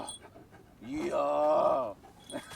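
A Kangal dog pants and whimpers close by, with a drawn-out whining tone in the middle and rapid breaths before and after, no talking.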